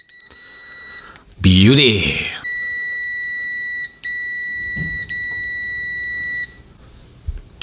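A Kaiweets HT118E multimeter gives loud, steady continuity-test beeps in several long tones with brief gaps, while someone speaks briefly in between.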